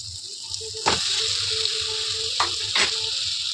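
Potatoes fry in spiced oil for chatpata aloo dum, a soft continuous sizzle close by with a few sharp pops and stirring scrapes.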